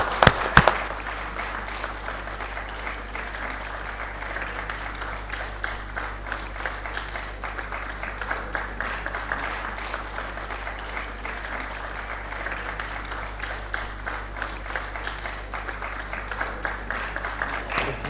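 Sustained audience applause at the close of a conference session on the InsurTech ecosystem, a dense, even clatter of many hands clapping that continues without pause over a steady low hum in the room.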